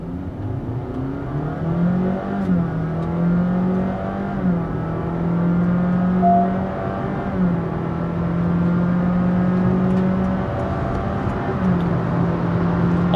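A 2022 Honda City e:HEV hybrid sedan pulls away hard from a standstill. A steady, loud engine drone climbs in pitch in a few smooth surges, heard from inside the cabin with no talking.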